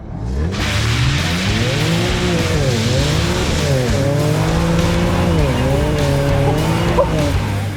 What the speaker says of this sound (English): That was quite an impressive burnout.